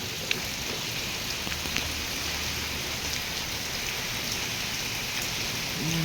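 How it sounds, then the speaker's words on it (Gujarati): Heavy out-of-season summer rain pours down steadily on farmland, a dense, even hiss of drops on surfaces that stays constant throughout, with no voices. "ભર ઉનાળે ચોમાસા જેવો વરસાદ આવ્યો."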